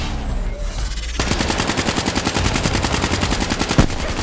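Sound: turret gunfire in video game Call of Duty Black Ops 3

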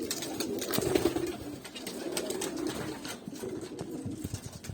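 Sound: pigeons cooing in loft

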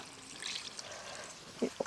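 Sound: pouring water into chicken curry pan

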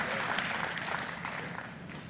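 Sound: church congregation applause

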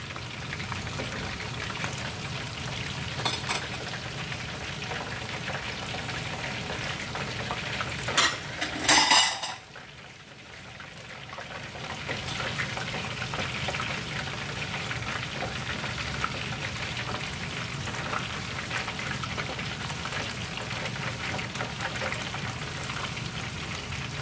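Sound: battered shrimp deep frying in oil for chili shrimp

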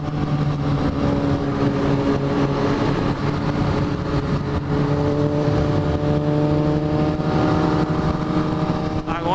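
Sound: Honda Hornet carbureted motorcycle engine revving

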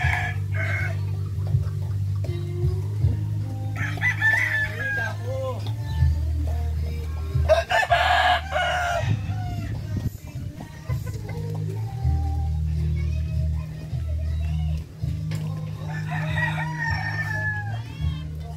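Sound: roosters crowing and chickens clucking

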